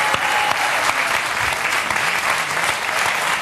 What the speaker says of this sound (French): On applaudit toute la troupe de Bernadette.